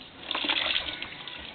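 Children splashing water in a basin, a short burst of close, choppy sloshing and splashes that rises then fades.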